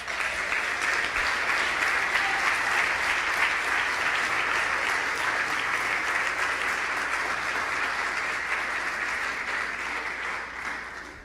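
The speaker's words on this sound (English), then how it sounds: "let's give ourselves a round of applause" Sustained applause from a large crowd at a city council candidate assembly, a dense, even wash of clapping that holds steady and starts to thin toward the end.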